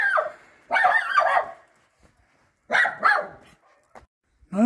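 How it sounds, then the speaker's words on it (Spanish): Small dogs bark repeatedly along a rural road near Berja, in loud bursts separated by short quiet gaps, with no speech over them. "nos hemos visto acosados por unos perritos."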